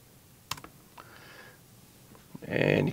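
A password is typed on a keyboard to join a wireless network. A few sparse, close key clicks are followed by a louder clattering burst at the end.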